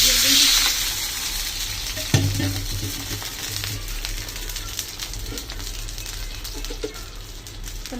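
Snakehead fish frying in a pan with onions, a continuous loud sizzle with stirring scrapes and occasional clinks close by.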